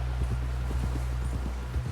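A horse in Red Dead Redemption 2 walks with a steady rhythmic clip-clop of hooves, close and clear over a constant low rumble, with no talk.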